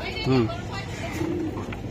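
Naptha pigeons coo close by in a pigeon farm, one clear throaty coo followed by a softer one, amid background voices and chatter.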